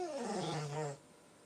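A pet puppy gives a close, continuous whining growl with tonal, whimpering harmonics that fades to quiet after about a second, in a quiet home.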